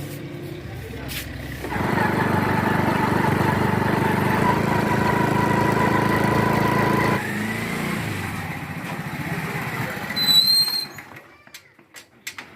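A motorbike engine idles steadily for several seconds, then the tone shifts as it keeps running nearby, ending with some brief background noise.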